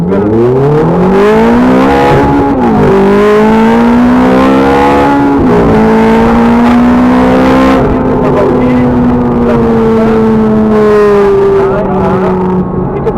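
A Ferrari F430 accelerating hard from a standstill on an airfield, its engine note rising steadily through the gears with brief dips at each shift, loud and close throughout.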